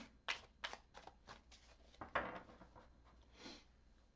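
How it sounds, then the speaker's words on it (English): Quiet, close riffling of a card deck: a series of short papery bursts in an even rhythm, then a few longer shuffles. "shuffle a little bit more here."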